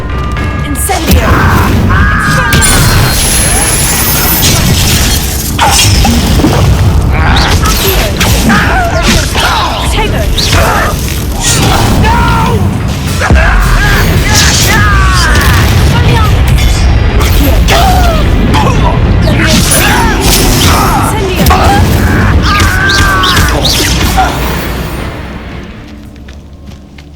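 Combat in Hogwarts Legacy on Xbox Series S brings repeated loud fiery blasts, whooshes and crashing impacts from the Incendio fire spell, mixed with shouting voices and game music, fading out at the end.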